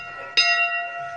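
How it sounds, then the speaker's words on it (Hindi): A temple bell at a Sai Baba shrine is struck once, giving a sharp, bright clang followed by a sustained shimmering ring that lingers close by, with a faint second strike at the end. "घंटी बजाते हैं अभी"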